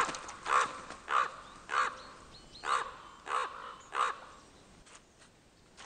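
A raven in the Swedish wilderness calls with six hoarse, croaking caws at a steady, unhurried rhythm, each loud and clear against a quiet outdoor backdrop.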